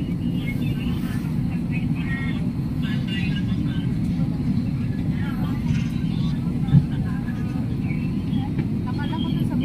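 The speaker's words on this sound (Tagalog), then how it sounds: "Dito na kami sa loob ng eroplano." Steady low cabin roar inside an airplane sitting on the ground, a constant engine and ventilation hum with people chatting softly beneath and a brief knock partway through.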